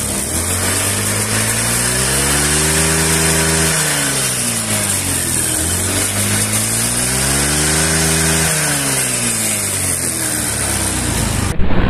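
Honda Beat carburetor scooter fitted with a Vario 110 pulley, engine running steadily and revving up and down in slow swells, loud and close, with a whining drivetrain tone.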